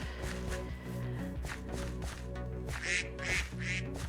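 A duck in the Minecraft video game quacks over and over in short nasal calls, mixed with game footsteps and background music, with no talking.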